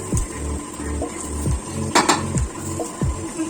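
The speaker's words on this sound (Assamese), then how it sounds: "পিঠাগুড়ি ভাজা হৈ আছে" Jackfruit pitha batter frying in hot oil, a steady low sizzle and bubbling with repeated clinks and scrapes of a metal utensil against the pan, close and fairly loud, no one speaking.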